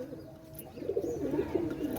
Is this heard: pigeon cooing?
yes